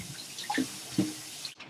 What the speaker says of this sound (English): rinse it in cool water